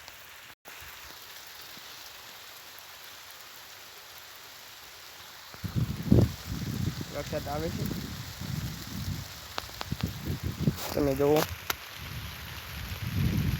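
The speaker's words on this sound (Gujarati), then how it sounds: "પણ વરસાદ આવે કેવું લાગે જુઓ" Light rain falls steadily on the ground outdoors as a soft, constant hiss, and a person starts talking over it partway through.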